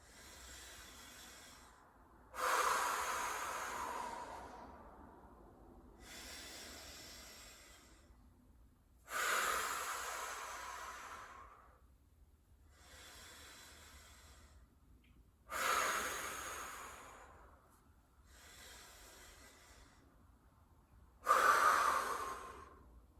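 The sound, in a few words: deep breathing during an exercise hold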